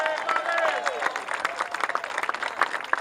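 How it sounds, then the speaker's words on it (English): Crowd applause at someone's Labor Day picnic in Virginia, an outdoor political gathering: a burst of clapping and cheering from many people, uneven and lively, with voices and a faint whistle mixed in near the start. "Give another big round of applause"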